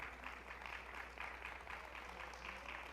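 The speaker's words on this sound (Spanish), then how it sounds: "Dale un aplauso por hacerlo para el Señor." A church congregation at a Christmas service claps together in a steady, fairly faint round of applause. The applause continues evenly for the whole stretch with no voices over it.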